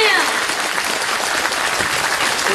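Steady applause from a year-end party audience of the Taiwan Civil Government, filling the whole clip at an even, loud level with no pauses.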